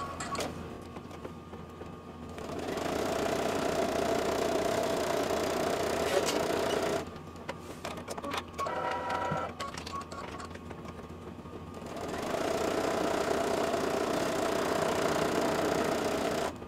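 A computerized embroidery machine runs a tack-down stitch on the top and bottom of a fabric treat bag, a steady rapid mechanical whir and needle patter in two long stretches separated by a brief quieter pause.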